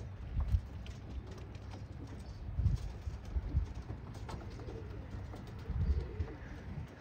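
Racing pigeons coo softly inside a coop, low murmuring calls rising in several brief swells over a quiet rustling background.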